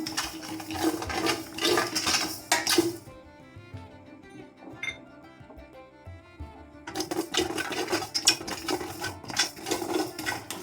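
Rice dry-roasting in a pan on a stovetop over low flame, stirred with light scraping and clinking in steady bursts, close by, with a quieter pause in the middle.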